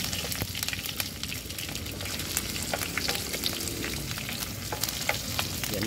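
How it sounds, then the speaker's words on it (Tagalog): Garlic and ginger sautéing for squid adobo over an outdoor cooking fire, a dense steady sizzle with crackling pops and occasional stirring scrapes throughout, no talk. "It's sizzle, babe. It's sizzling."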